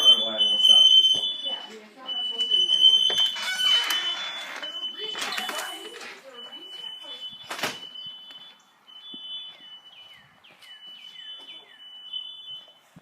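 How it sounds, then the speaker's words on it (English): Smoke alarms set off by cooking smoke indoors beep in high, piercing bursts, repeating again and again while people talk and move around over them with clattering and knocks. "So there's fire alarms going off."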